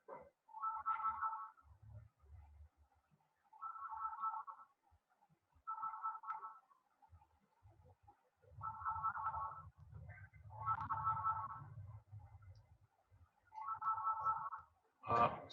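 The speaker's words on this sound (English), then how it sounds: "there is a phone ringing" A phone rings in repeated short bursts with regular pauses between them, fairly faint and distant, with low murmuring in some of the gaps.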